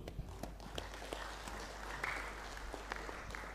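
Applause from the audience at a council inauguration ceremony, steady and moderately distant clapping with scattered sharper claps over a low background hum.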